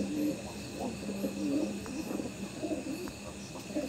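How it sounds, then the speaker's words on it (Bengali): A large Kaldum pigeon being held in hand coos softly, low rolling calls repeating in short phrases, close and faint over background hum. "আর এটা কিন্তু ভালো বড় সাইজের পায়রা।"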